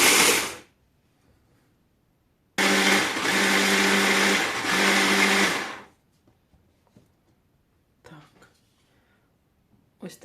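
A blender grinds oats into flour in a loud, steady burst of about three seconds with a brief dip midway, after a short earlier pulse; quiet kitchen clatter follows.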